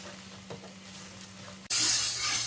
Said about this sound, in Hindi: दही डालने के बाद हम इसको 1 से 2 मिनट भून लेंगे।